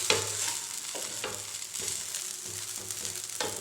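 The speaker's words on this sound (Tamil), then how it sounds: "இப்போ கொஞ்சம் பரட்டி போடுறப்ப இன்னும் கொஞ்சோண்டு எண்ணெய் ஊற்றுறோம்." An aval and wheat flour adai fries on a pan with a little extra oil, a steady close sizzle broken by a few soft scraping knocks of a turner, without any talk.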